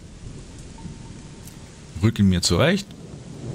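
Steady rain hiss fills the background of a medieval-style role-playing video game, with faint low rumbles suggesting thunder, while someone speaks briefly over it midway.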